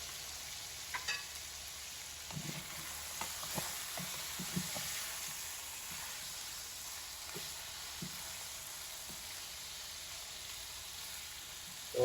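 Cardamom pods, curry leaves, garlic and cloves frying in oil in a pan for a green chicken karahi, giving a steady soft sizzle with scattered faint pops and crackles throughout, no talking.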